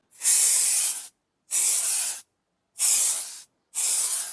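FAST COOL cooling spray is released from an aerosol can in four separate bursts of loud, close hissing, each lasting just under a second with short silent gaps between them, and no talking.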